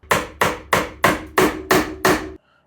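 Six sharp metal hammer blows strike a bent car body panel being straightened with a second hammer standing in for a dolly, evenly spaced about a third of a second apart, loud and close, each ringing briefly before decaying.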